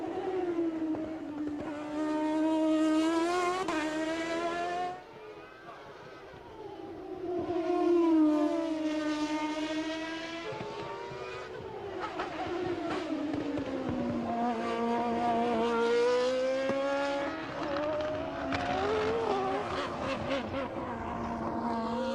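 Formula One cars lap Albert Park during a 1997 practice session, including a Lola Ford, their high-revving engines rising and falling in sweeping, whining tones as they pass, loud and continuous.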